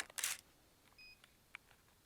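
A single camera shutter clicks crisply during a spring landscape shoot in the Ozarks at f11 and 1/8 second, followed by faint beeps and small clicks in a quiet outdoor setting.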